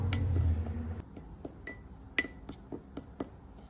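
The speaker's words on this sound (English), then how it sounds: "You wanna give this a really good stir, incorporate everything together nicely." Pumpkin seeds stirred with parmesan and ground mustard in a bowl give a run of sharp clinks and taps against the bowl, irregular and close, after a brief low rumble.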